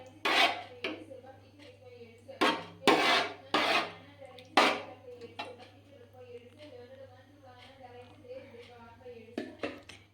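A spoon scrapes and clinks against a pot while sago is stirred into Kerala pineapple payasam, in short irregular bursts of stirring with quieter pauses between, close and moderately loud.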